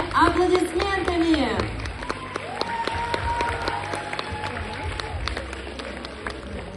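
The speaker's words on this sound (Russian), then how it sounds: "Встречайте дружными аплодисментами." Audience applause at a youth culture festival, clapping from a crowd heard for the first second or so, then fading under a voice talking over the rest.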